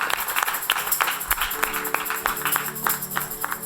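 A church congregation claps for Jesus Christ at a Christian worship service, a steady wash of applause with some sharp individual claps, moderately loud and continuous with no talk over it.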